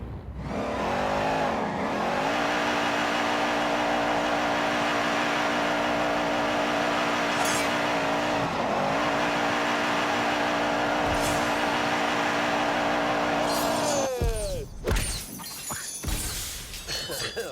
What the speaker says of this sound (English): I'll just make wheel spin. Wheel spin, that just makes a huge amount of noise.